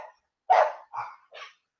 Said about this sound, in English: I don't even know what they're barking at.